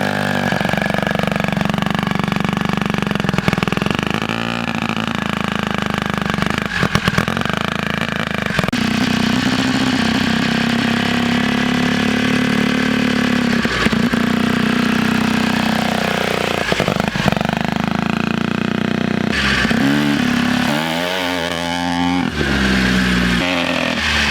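A turbocharged rotary engine in an ATV runs and revs out in open fields, loud and close, holding a steady buzzing drone with rising and falling pitch sweeps as the throttle opens and closes.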